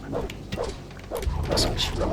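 Dog barking in the game Gothic 2, a handful of short barks and yips in an uneven rhythm, close and moderately loud, with a voice talking over part of it.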